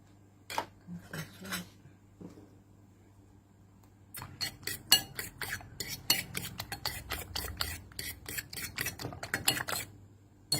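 A pork mixture is beaten in a bowl. A few isolated taps come first, then a rapid run of sharp clinks and clatters of utensil on bowl, close and fairly loud.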